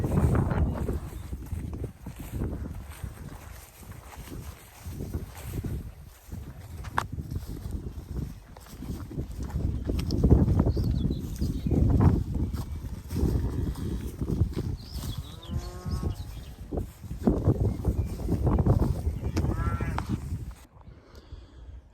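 Herd of over 80 cows walking past on foot during a cattle drive, continuous shuffling hoof thuds and rustling at close range with occasional animal calls, and some voices in the background.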